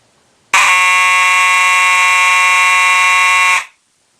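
A Simplex 4901-9805 fire alarm horn sounds its continuous pattern as one loud, harsh buzzing blast of about three seconds, starting abruptly and stopping cleanly, close to the listener.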